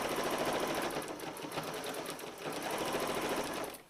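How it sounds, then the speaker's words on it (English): A sewing machine stitches a blue jeans envelope purse in a fast, even whirring run that eases slightly midway and stops at the end. No one speaks. "So I'd like you to continue to sew as close to the edge as you can."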